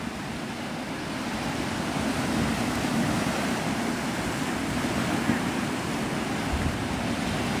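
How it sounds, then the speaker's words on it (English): Steady ocean surf at Navarre Beach, Florida: a continuous broad wash of breaking waves with some wind noise on the microphone, constant and moderately loud with no talking. "You're sitting there here listening to the waves while you drink coffee."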